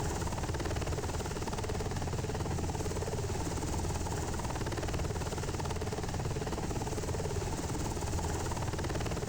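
A UH-60 Black Hawk helicopter hover taxiing in Flight Simulator 2020, a steady, loud rotor-and-turbine drone with constant buzzing whine, unbroken and close, no talk over it.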